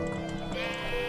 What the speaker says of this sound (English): There's a ton of sheep around